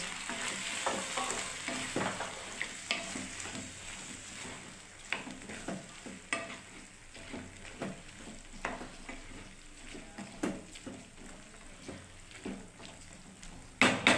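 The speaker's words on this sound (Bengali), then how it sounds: "এবার আমি মটরটাকে ঢেলে দিচ্ছি বন্ধুরা" Dried peas tipped into a hot pan of spices for Bengali ghugni, frying with a steady close sizzle broken by repeated scraping stirs and small knocks from the spoon, with no talking.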